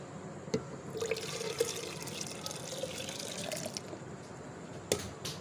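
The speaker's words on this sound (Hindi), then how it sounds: "सबसे पहले हम डालेंगे जग में दूध।" Milk pours into a jug in a home kitchen, a soft steady liquid trickle with a few small clinks and splashes, faint and close.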